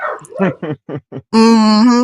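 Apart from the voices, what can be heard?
neighbour's dog barking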